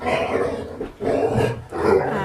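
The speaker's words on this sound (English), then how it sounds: "Excuse my dog's in the background." A pet dog plays in the background of a home crochet session, letting out rough growling barks in three bursts with brief pauses between them. A voice is briefly heard.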